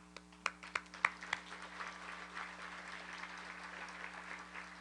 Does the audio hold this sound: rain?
no